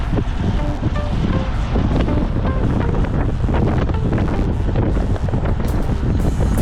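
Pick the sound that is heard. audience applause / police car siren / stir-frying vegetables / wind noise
wind noise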